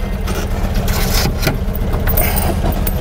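A GAZ-24 Volga pulling away, its low engine rumble steady and close, with keys jangling and small rattles inside the car.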